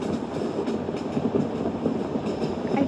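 Simulated train in the Trainz Simulator game running on a Bangladesh route, a steady rolling rumble with faint wheel clatter, continuous and even throughout, no voices.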